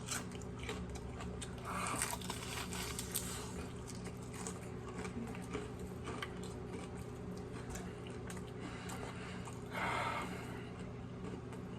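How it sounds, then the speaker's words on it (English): Close-up crunchy biting and chewing of homemade fried chicken, with wet smacking sounds and occasional louder crunches, no talking. "this part of the video is for my ASMR people that like to hear people smacking"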